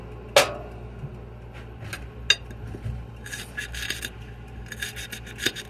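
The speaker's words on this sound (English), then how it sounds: "kind of cut this lemongrass up." A knife chops and scrapes through stalks of lemongrass on a board, giving sparse sharp cuts and rasping rubs with pauses between strokes, close and moderately loud.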